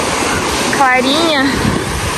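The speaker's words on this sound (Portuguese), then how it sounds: "A gente veio aqui na praia." Surf washing onto a Miami beach in winter, a steady close roar of breaking waves that runs the whole time, with someone talking over it.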